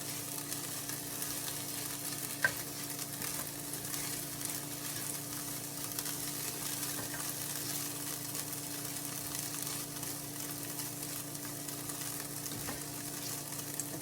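Bell peppers sizzle steadily in a hot pan while cooking for Cajun zucchini shrimp boats with andouille sausage, a continuous close frying hiss with an occasional faint clink and no talking.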